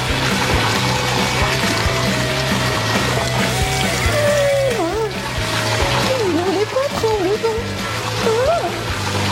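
Water splashes and sloshes out after a mystery button is pressed in an escape challenge room, a busy wet splatter running throughout with voices and whistling tones over it.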